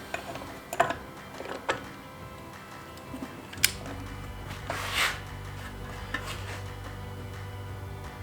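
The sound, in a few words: wheel rotor spun while tightening bearing preload nut, Jeep CJ5 Dana 30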